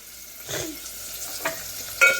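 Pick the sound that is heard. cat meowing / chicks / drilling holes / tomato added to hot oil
tomato added to hot oil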